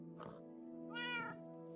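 Cats in the Minecraft video game meow twice, a short mew followed by a longer, brighter meow, both over a steady musical background hum.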